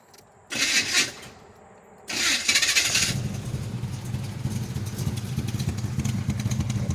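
An old Chevy engine with a cam, in a Cutlass with side pipes, cranks in two short bursts and then fires up. It settles into a loud, lumpy, rumbling idle close by, with no talking.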